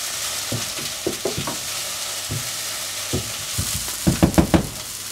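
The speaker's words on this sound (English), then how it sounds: "I'm going to fry these until they begin to soften" Onions or similar chopped vegetables fry in a pan for a quiche Lorraine before bacon goes in, a soft sizzle under repeated scraping and stirring strokes that grow busier toward the end, with no talk.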